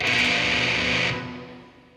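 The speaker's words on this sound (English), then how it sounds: "a diminished 2nd chord" A diminished chord rings out on a heavily distorted metal electric guitar, one sustained strum that holds for about a second and then fades away, loud and alone with no voice.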